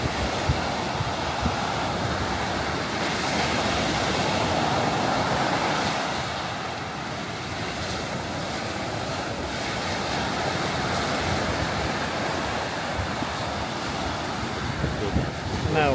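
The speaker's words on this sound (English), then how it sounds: "I just want a big ass wave to come in and just like take it." Ocean waves breaking on the beach at Bimini, Bahamas, a steady wash of surf with wind buffeting the microphone, continuous and fairly loud throughout.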